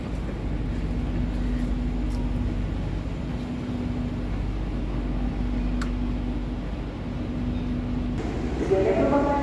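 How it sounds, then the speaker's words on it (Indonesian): Steady low rumble and hum of the Argo Bromo Anggrek train rolling into Pekalongan station, with a sustained tone and rising squeal near the end as it slows. "Kereta api Argo Boma Anggrek telah tiba di pemberhentian keduanya, yaitu stasiun Pekalongan di Jawa Tengah."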